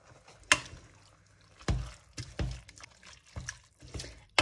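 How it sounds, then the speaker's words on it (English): Canned chopped tomatoes are added to an Argentine beef stew with pasta and stirred, producing wet sloshing plops and spoon scrapes in irregular bursts, close and moderately quiet. "you are going to now be adding your chopped tomatoes"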